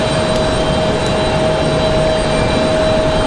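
Air France jet at Raleigh-Durham International Airport, a loud, steady roar of engines with a sustained whine, continuous and close, with no voices over it.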